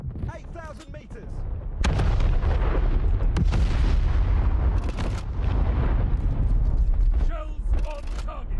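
Battleship guns fire in the War Thunder Mobile naval game: heavy booming shell salvos with rumbling blasts and mechanical clatter, several loud bursts in succession, alongside game voice callouts.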